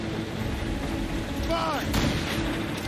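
Ship cannons firing during a naval battle in Assassin's Creed Rogue, a deep booming blast over constant sea and wind noise, with a whistling projectile sound just before it.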